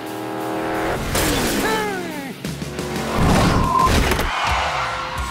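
A cartoon car on a fast test drive roars loudly and revs, with whooshing engine sweeps and clattering crash-like effects over a music bed, with voices now and then.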